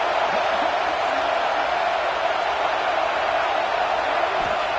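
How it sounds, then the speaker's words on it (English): A packed football stadium crowd roars with a steady, loud wall of cheering and noise during a third-down play in the red zone, unbroken for the whole moment. "this crowd is at fever pitch"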